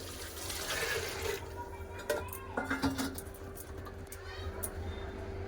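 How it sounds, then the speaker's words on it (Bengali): Water poured into a pressure cooker holding peas, a brief splashing pour at the start followed by a few sharp metallic clinks and a low steady background hum. "দিয়ে দেবো জল"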